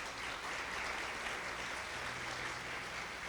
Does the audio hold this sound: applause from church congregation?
yes